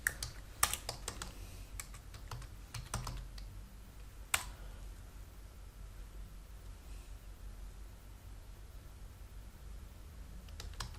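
Computer keyboard keys tapped while working in MS Word, a few scattered clicks and short bursts of typing over a low steady hum, with long pauses between them and no talking.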